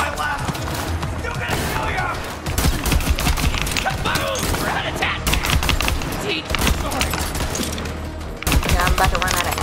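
Sustained gunfire in the shooter game Borderlands 3, dense rapid shots and bursts close and loud, running nearly nonstop with brief dips in intensity.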